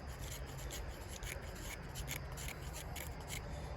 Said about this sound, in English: This is a ferro rod scraper I won in a contest